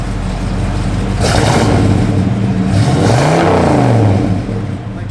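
A 1971 Chevrolet Chevelle SS idles with a low rumble, then its engine revs up twice in quick succession, each blip rising and falling loudly close by before settling back to idle.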